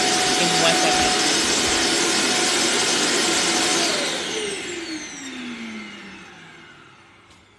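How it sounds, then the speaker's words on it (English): Robot vacuum cleaner running loudly up close with a harsh motor whir and brushing noise, then winding down with a falling pitch as it powers off. "y'all know them vacuum cleaners that vacuum on their own"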